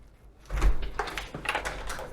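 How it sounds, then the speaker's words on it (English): An automatically locking hotel door is pushed open with a thump and mechanical clunk, followed by scraping and rattling of the door and latch over a second or so, close by. "If I can get out of the automatically locking door."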